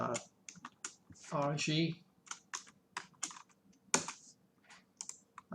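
Typing on a computer keyboard while setting up a parameterized symbol in Cadence software: bursts of quick, close key clicks with short gaps, alongside someone briefly speaking.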